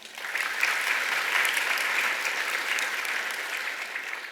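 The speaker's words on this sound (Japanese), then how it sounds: "拍手をお願いいたします。" Shareholders at a general meeting applaud for about four seconds, a steady, even wash of crowd clapping that neither builds nor fades. No one speaks over it.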